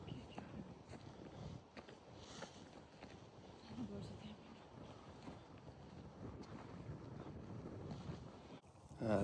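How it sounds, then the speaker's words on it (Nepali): Cold wind blows steadily across a hilltop in Bradgate Park, Leicester, buffeting the microphone in a continuous low rumble with gusts rising toward the end; a voice is faintly present. "हावा सरर चलेको चिसो हावा"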